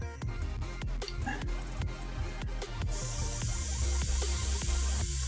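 An airbrush sprays black paint over white in a monochrome airport scene, giving a steady airy hiss with short repeated bursts. It sits close and fairly quiet, and a continuous broadband spray takes over near the end.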